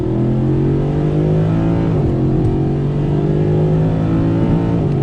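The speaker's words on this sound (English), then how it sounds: "We're in the 2012 Mercedes Benz AMG SLS, getting on throttle." A 2012 Mercedes-Benz SLS AMG accelerates hard from inside the cabin, its loud engine note climbing steadily in pitch with brief dips at gear changes, continuous and close with no talking.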